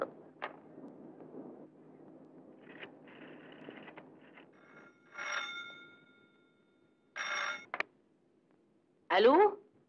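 An old telephone ringing in a home, several short bursts of ringing rising in loudness after people talk, with brief gaps between rings.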